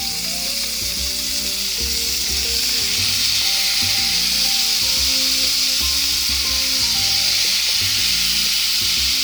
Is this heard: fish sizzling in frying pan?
yes